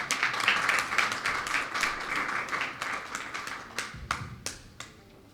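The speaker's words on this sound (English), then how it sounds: "Let's give them a round of applause" An audience applauds at a programme launch in Belize, dense clapping that thins out toward the end into a few scattered claps.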